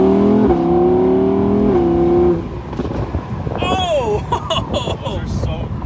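Audi R8 Spyder V10 revving up, then its exhaust crackling and popping in a quick scattered burst of sharp cracks as the engine lets off, close and loud with wind rushing past.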